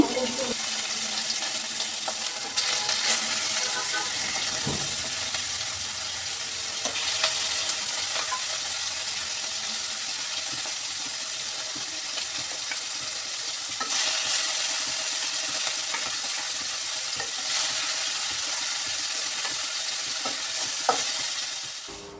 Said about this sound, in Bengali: তেলটাও গরম হয়ে গেছে আমি এখন চিংড়ি মাছগুলো দিয়ে দিচ্ছি